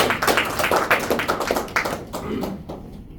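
Meeting audience applause, a brief burst of clapping from a modest group that rolls along for a few seconds and then tapers off into quiet.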